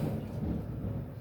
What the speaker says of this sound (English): Loud thunder.